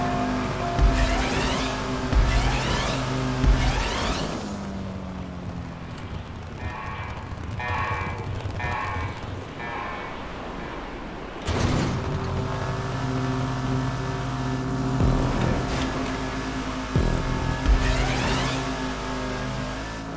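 A race car in a stunt racing video game revs hard and loud, its engine rising and falling through repeated gear changes, easing off under braking for tight turns before accelerating again, with brief tyre squeal.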